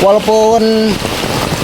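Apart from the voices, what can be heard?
heavy rain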